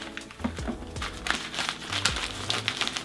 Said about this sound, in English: What we're supposed to have is actually this thematic wrapping paper.